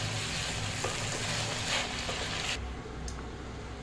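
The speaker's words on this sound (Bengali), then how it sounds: "মশলার সাথে সবজিগুলো ভালো করে মিশিয়ে নিচ্ছি।" Fried vegetables for Bengali shukto are stirred together with spices in a pan, giving a faint, close sizzle with soft scraping and stirring that quiets partway through.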